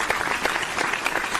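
Short burst of applause from a small group, dense, steady clapping heard close up with no break.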